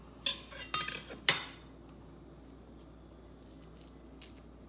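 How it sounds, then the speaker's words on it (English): Dragon fruit being cut into small cubes with a knife on a board, giving three or four sharp close clicks and taps early on, then quiet with a couple of faint later knocks. "So I like to cut it into cubes."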